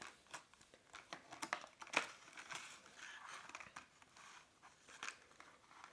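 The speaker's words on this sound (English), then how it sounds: "let's go ahead and open up this clear plastic packaging here" Clear plastic packaging for a phone camera lens kit crinkles and crackles as it is pulled open, with soft, irregular rustles and a few sharper crunches, close and fairly quiet.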